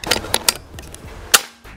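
A series of sharp shots from an FX Airguns 500C PCP air rifle, a quick cluster of snaps followed by one louder crack, close and dry.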